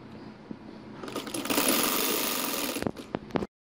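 A sewing machine stitches the fold of a fabric poncha, whirring steadily and loudly for about two seconds, then a few sharp mechanical clicks before it stops. There is no speech.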